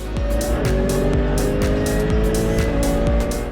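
GT race cars, including an Audi, racing on the Portimao circuit during a GT Winter Series round, engines roaring loudly and continuously with gear-shift pitch sweeps and tire noise throughout, no voices.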